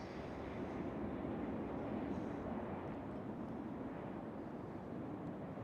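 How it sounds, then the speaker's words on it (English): An Etihad Airlines cargo Boeing 777 rumbles at Schiphol Airport, a steady broadband jet roar holding at moderate distance throughout, with no talk. "And it is indeed a 777, our starting thumbnail of today. Etihad Airlines cargo."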